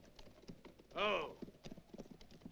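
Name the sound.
horses' hooves clip-clopping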